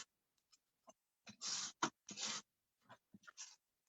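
Folded card for a Christmas card craft being creased with a tool, a few short scraping strokes alongside soft taps and rustles, close and quiet.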